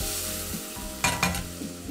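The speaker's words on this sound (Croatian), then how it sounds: "posolimo, promiješamo i kratko pržimo na srednje jakoj vatri." Onion with pressed garlic and salt fries in a pan over medium heat, giving a steady close sizzle. Two sharp scraping stirs land about a quarter-second apart.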